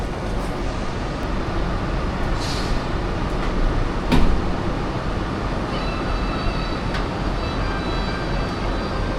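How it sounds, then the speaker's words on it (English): An airport metro train runs along the track with a steady rumbling roll and hiss heard from inside the car, one brief louder knock midway and faint tonal chimes near the end. "this is my first time entering a metro inside a train"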